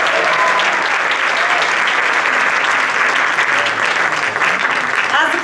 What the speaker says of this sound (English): As the curtains are closing, one more round of applause to Gordon Bobby